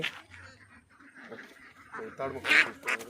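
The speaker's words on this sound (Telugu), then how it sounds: "ఈ పక్కన బాతులు కనబడ్డాయి కొంటున్నాం" Ducks quack in a few short, raspy bursts near the end, fairly close, with people talking quietly in the background.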